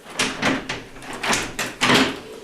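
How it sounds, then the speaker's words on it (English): A door opens in a quiet room, heard as several short broadband creaks and knocks with a low hum beneath them. No one speaks. "Oh, door opened."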